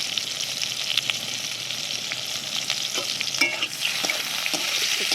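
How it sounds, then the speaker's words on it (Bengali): Fried pointed gourd (potol) stirred in a pan, a steady oil sizzle with scattered scraping and clinking from the utensil against the pan, close and moderately loud, with no talking. "পটলগুলো এবার ভাজা হয়ে গেছে, তো এবার নাড়িয়ে দেবো।"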